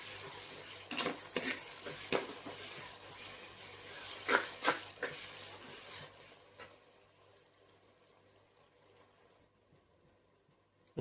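Chopped onions sautéing in a pan toward golden brown while being stirred, with soft sizzling and several sharp scrapes and clatters of a spatula, fading toward near quiet at the end.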